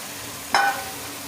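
A spoon stirs eggs into a cooked yogurt masala gravy, making one short scraping clink against the pot over a steady, soft simmering hiss.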